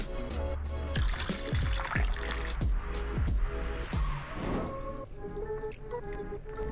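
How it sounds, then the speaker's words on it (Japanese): Disaronno liqueur poured into a glass, a close liquid gurgle and trickle with a run of quick glugging pulses that then settles into a thinner dribble. "ディサローノを 30ml グラスに注いでいきます。"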